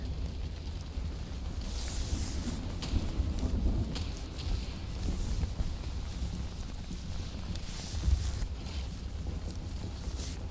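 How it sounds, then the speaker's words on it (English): Rain in the video game Police Simulator: Patrol Officers makes a steady, dense hiss with low rumbling underneath. A few louder thuds break through, and nobody speaks. "Rain is starting again."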